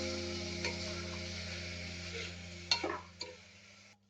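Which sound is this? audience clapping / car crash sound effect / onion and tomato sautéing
onion and tomato sautéing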